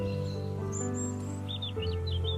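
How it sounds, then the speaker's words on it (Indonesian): Endemic birds of the Sumatran forest sing in short high chirps and whistled phrases over a steady droning, tonal background, fairly close and lively. "Nyanyian burung endemik."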